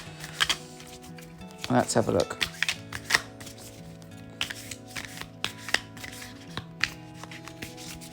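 Tarot cards being shuffled by hand at a table, a series of soft, quick riffling and tapping bursts, close and fairly quiet, while someone talks over them throughout.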